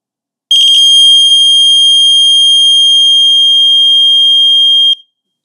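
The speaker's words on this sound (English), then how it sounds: "And here is the alarm test that you can activate without needing a source" An NRF30 personal dosimeter sounds its alarm test, a loud, piercing, steady electronic tone lasting about four seconds after a brief stuttering start, then cutting off abruptly.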